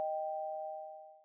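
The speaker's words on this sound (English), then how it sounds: "I'm cut off by the sound of the room's doorbell." A room doorbell in the video game Kimochii Classroom gives a single clear electronic chime that rings out and slowly fades over about a second, alone with no talking.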